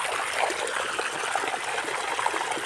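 Irrigation water runs steadily into a field channel in a cumin and vegetable plot, a continuous close trickling and gushing flow with no talk over it.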